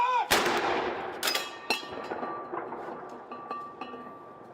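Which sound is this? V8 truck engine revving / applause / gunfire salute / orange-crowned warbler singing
gunfire salute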